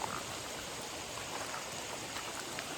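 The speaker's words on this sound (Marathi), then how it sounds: "आणि पावसाचे असे थेंब थेंब पडतायत ना" Steady, soft patter of rain falling at night at a campsite, a continuous hiss with faint scattered drops and no voices.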